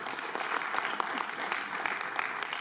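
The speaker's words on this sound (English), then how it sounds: "I want you guys to give a big round of applause to my fellow comic" An audience at a Diwali festival show clapping for a comedian taking the stage, dense steady applause from a sizable crowd filling the room throughout.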